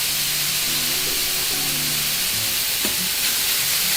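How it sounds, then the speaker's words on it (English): Coconut lightly roasting in a pan for an Indian-style shrimp sukhha: a steady, fairly loud hiss throughout, with a faint low hum underneath and no voices. "We're going to lightly roast the coconut."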